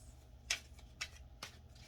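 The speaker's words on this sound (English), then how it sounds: "I'm just gonna shuffle from this deck, the Lord of the Rings." A Lord of the Rings tarot deck is shuffled in three quick, crisp riffling bursts, soft and close against a low background hum, with no talking.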